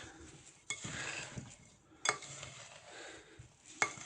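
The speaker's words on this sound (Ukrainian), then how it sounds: "сюди засипаємо цукор. Так перемішуємо зараз добре." Quiet clinking of a spoon against a bowl as sugar is stirred into sea buckthorn berries, with a few sharper scraping taps at irregular intervals.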